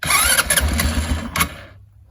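A Motoleader ML200 quad bike engine starts on a cold, slushy day, catching with a loud rumbling burst and a few uneven revs before dying away into silence.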